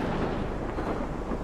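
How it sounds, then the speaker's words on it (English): A thunderstorm in the game Life is Strange roars as a dense, loud, continuous rumble with a low-pitched wash like heavy wind and rain, and no speech. "Holy fucking storm."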